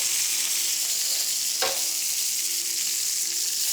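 Meat sears in a pan with olive oil and a little butter, making a loud, even, hissing sizzle that runs throughout, with one brief clink partway through.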